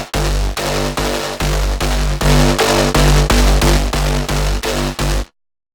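ANA 2 synth bass stab with a chorus-like stereo spread, repeated in a steady rhythm of about ten loud, evenly spaced hits, each thick with deep low end and a bright, buzzy upper range, heard alone and ending abruptly.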